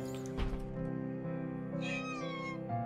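A cat meows in the video game The Last Door, a drawn-out, wavering call standing out clearly over a steady droning musical background, with no talking.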